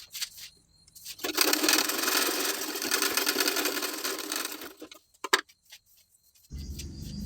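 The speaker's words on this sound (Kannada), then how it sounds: "ಈಗ ಸೈಡ್ ಟಕ್ಸ್ನ ಸ್ಟಿಚ್ ಮಾಡ್ಕೊಳ್ಳೋಣ." A sewing machine stitches side tucks on a tailored garment in a steady, loud run of about four seconds, followed by a few soft clicks and a low hum near the end.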